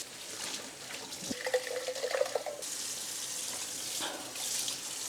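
Water runs from a kitchen tap into a sink as a few plates and cups are washed, a steady splashing stream with brief changes in flow and faint dish handling, close by and with no talking.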